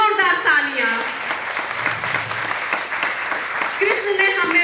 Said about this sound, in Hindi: एक बार गिरिधर के लिए, हमारे कान्हा के लिए जोरदार तालियां।